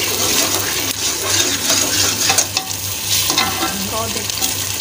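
Spiced masala for a keema and green beans dish fries in ghee in a pan, giving a steady loud sizzle with stirring and scraping throughout, a low hum running underneath and no voices.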